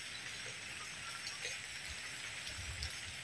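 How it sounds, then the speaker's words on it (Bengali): Rain falling steadily, a soft even hiss with faint scattered drops and low rumbles beneath, no voices. "বৃষ্টি পড়া শুরু হয়ে গেছে।"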